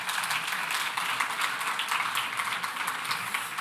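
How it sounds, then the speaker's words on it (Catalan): Audience applause at the Premis Jordi Pujiula 2025 awards ceremony as jury members go up to the stage, a dense, steady clapping from a crowd that holds at an even level throughout. "Un fort aplaudiment per ells."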